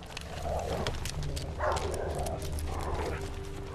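Dog in The Witcher 3: Wild Hunt giving short yipping barks and whimpers, three bursts in a few seconds over a steady game background hum, close and fairly loud.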